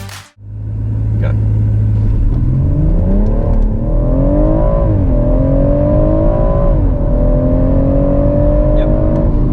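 A 2017 F20 BMW M140i with a ZF 8-speed automatic launching hard under launch control: the engine drone climbs steadily in pitch through several gear changes, loud and close from inside the cabin.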